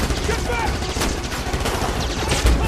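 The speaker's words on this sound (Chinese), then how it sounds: "刀疤突然推倒绍特，然后一路开枪冲向美国总统。" Gunfire in a dramatic action-film scene as an assassin shoots his way toward the US president inside the White House, dense overlapping shots and bursts rattling continuously over a loud, busy mix with a voice faintly present.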